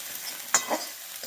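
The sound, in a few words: garlic-ginger paste with onion masala being roasted and stirred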